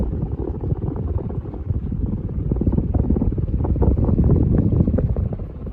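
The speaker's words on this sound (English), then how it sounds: "I'll go and give you guys a close-up so you can hear the wind noise off the fan" A Ritz Petite ceiling fan blows a close, steady low whoosh of rushing air against the microphone, with a faint rhythmic flutter that grows a little louder near the end.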